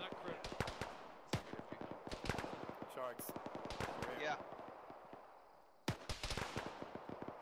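Heavy gunfire in a military shooter game: sharp, loud bursts and single shots crack repeatedly, with distant rattling fire between them and a brief lull near the end; voices are heard through the firing.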